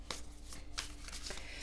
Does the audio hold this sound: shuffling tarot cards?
yes